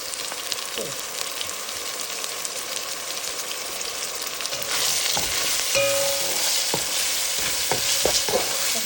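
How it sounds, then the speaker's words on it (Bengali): Ginger and garlic frying in oil together with browned onion: a steady, crackling sizzle that grows louder and denser midway, punctuated by stirring scrapes and clinks against the pan, with no talking. "সুন্দর করে এটাকে ভেজে নেব যাতে আদা রসুনের হলো আদা রসুন পেঁয়াজের কাঁচা গন্ধটা চলে যায়"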